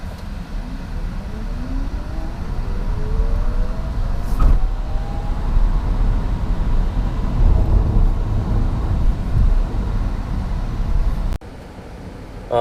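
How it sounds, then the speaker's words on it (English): 2018 Chevy Bolt LT electric car accelerating hard from 0 to 60, a rising electric motor whine sweeping upward over steady road and wind roar, heard from inside the cabin. "I'm going to try and give you a little 0 to 60 action here"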